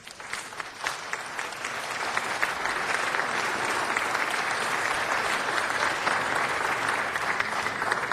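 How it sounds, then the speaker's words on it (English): An audience at a city council meeting gives Miss Chinatown and her court a big round of applause: continuous, dense clapping that starts lightly and swells to a steady roar for several seconds. "let's give them a big round of applause"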